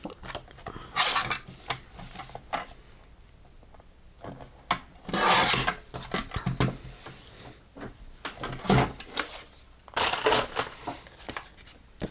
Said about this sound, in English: so I'm going to trim it to 5 1/4